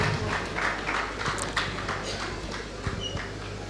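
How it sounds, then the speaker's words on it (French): Gala dinner audience applauding the jury president, a dense, steady patter of many hands clapping that fills the room at moderate loudness and tapers slightly toward the end. "Merci d'applaudir très fort pour le président du jury."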